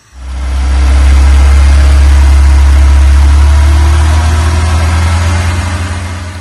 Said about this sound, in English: right now when you open the throttle it goes really lean